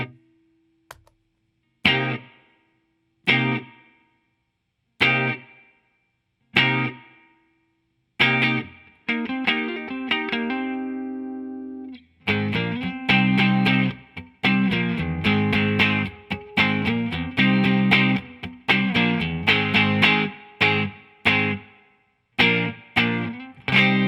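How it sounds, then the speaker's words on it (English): Clean electric guitar notes and chords ring out through a reverb pedal with a spacious reverb tail, starting as sparse single plucks and building into faster strummed playing. "So let's hear just the clean tone with that reverb."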